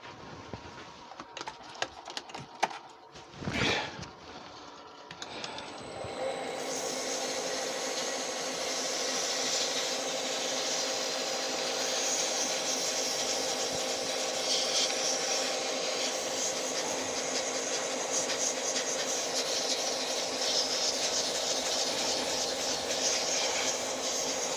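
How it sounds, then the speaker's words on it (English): A resin pen blank is sanded with 240-grit abrasive while it spins on a woodturning lathe, producing a steady, fairly loud whirring hiss that continues evenly after some clicks and knocks at the start. "Now I'm going to sand them, and I'm only going to use 240 on them because it's resin"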